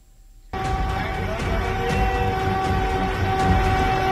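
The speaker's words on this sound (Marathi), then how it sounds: "ही आहे बुलेट ट्रेन." A bullet train runs past with a steady, building rail rumble and rhythmic clatter that begins abruptly after a short quiet moment and holds loud to the end.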